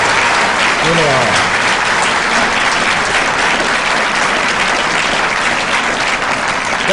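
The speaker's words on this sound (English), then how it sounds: "Give him a round of applause." A dense, loud burst of audience applause fills a speaking event, sustained clapping from a large crowd with a brief voice or whoop rising over it near the start.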